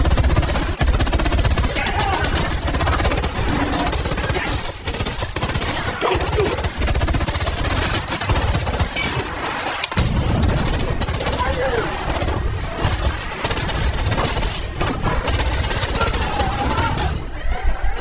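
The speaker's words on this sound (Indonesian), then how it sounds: "hingga aksi tembak-tembakan pun terjadi" Dense, continuous bursts of automatic gunfire from a film shootout in Wrath of Man rattle loudly throughout, layered with chaotic background noise and occasional shouting.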